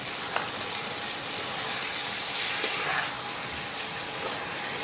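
Tomato paste goes into mutton frying in a pan for mutton ghugni, setting off a loud, continuous sizzle that hisses steadily throughout with faint stirring.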